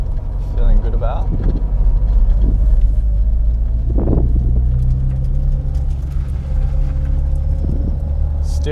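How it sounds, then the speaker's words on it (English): A Toyota KE70 with tuned suspension driving at normal speed, a steady low engine and road rumble close inside the cabin, with a few brief creaks and bumps over the drone. "I'm going to see how this is feeling, just sort of driving around normally."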